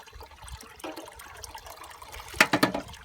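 Liquid squirts into a container of muddy water, giving faint trickling and then a short burst of louder bubbling gurgles near the end.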